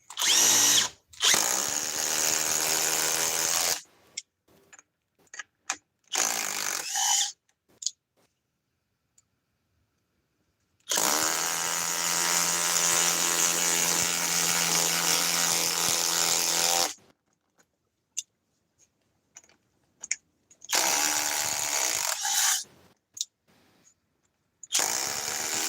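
A DeWalt power tool runs in three long bursts of steady whirring, with short clicks and quiet gaps between them, close and loud with no talking.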